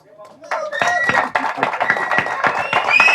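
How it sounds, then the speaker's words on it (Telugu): An audience at a live movie pre-release event bursts into sharp, quick claps and scattered cheers, starting after a short quiet moment and building to a loud, sustained applause with voices mixed in. "ఈ క్లాప్స్ సరిపోవు, ఈ విజిల్స్ సరిపోవు"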